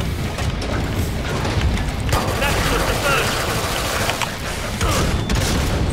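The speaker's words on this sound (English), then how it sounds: "he's shooting missiles again" Enemy missile fire in the video game Killing Floor 2, a steady dense rumble of booms and bursts of shooting that runs continuously and loud throughout, with speech mixed in.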